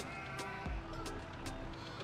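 Sheep bleating in the Farming Simulator 25 video game, a few short bleats over a steady background hum, at moderate level, with no talk.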